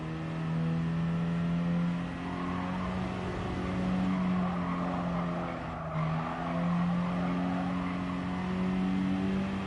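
Car engine in Gran Turismo Sport with long gearing, droning steadily near and loud for the whole stretch, its pitch stepping down through downshifts against a hiss of tire and track noise.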